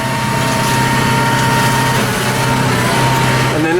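A hedge trimmer runs continuously while trimming the top of a hedge beside a neighbour's hedge, a loud, steady motor buzz close by, with a person talking over it.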